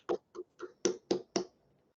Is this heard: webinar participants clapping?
yes